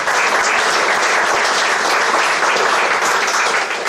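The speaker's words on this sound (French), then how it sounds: "Je crois qu'on peut les applaudir." A gathered audience applauds at the opening of a sculpture exhibition at the Sémaphore de la Pointe du Grouin, with sustained, even clapping from many hands at close range, loud and unbroken for the whole stretch.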